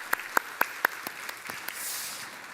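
Members of a church congregation clap in encouragement for prayer supporters during a Sunday service, a handful of distinct sharp claps in an even rhythm, then lighter scattered claps fading into room noise.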